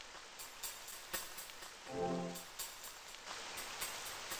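Light drizzling rain falls in a forest scene of an RPG Maker horror game, a soft steady hiss with faint pattering and a brief low tonal swell partway through.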